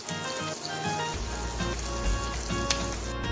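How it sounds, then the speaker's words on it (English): Mughlai koftas shallow frying in a little oil in a home kitchen pan, giving a continuous close crackling sizzle with small pops, steady throughout with no talking. "Shallow fry your kofta. Fry your koftas in a little bit of oil."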